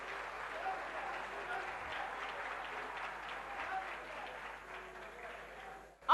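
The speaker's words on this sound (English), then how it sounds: "Let's give them a round of applause." An audience at a school quiz competition claps in a sustained, even round of applause that fades near the end, heard from a distance with faint voices underneath.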